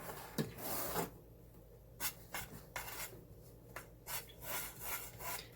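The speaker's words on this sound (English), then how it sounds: "I'm just going to go ahead with my offset and smooth these out" An offset spatula smooths vanilla cake batter in a pan with soft, repeated scraping strokes, quiet and close, with short pauses between passes.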